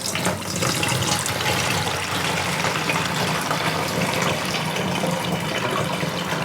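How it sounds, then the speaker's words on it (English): Warm water poured into a jug holding molasses for rum making, a steady rushing, splashing flow heard close and continuous with no voices. "I'll just put some warm water in there to help melt that"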